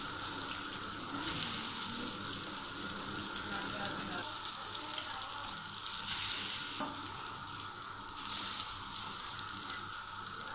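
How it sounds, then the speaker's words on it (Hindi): Beef shami kebabs fry in a pan with a dense, continuous sizzle and crackle that holds steady throughout, close and fairly loud, with occasional faint clicks and no talking. "जब एक तरफ से आपके कबाब फ्राई हो जाएं तो आप उसकी साइड पलट दें।"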